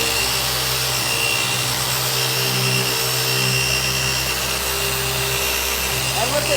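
A Maxshine M15Pro dual action polisher runs at speed 4.5, a steady loud motor whine with a droning hum and a broadband rush that holds constant throughout, close by.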